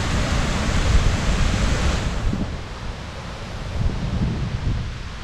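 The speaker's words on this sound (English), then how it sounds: "The waterfall is plunging." Minnehaha Falls plunges about sixty-five feet in winter, its roar a constant dense rush of water heard close and loud, easing slightly midway, with no talk.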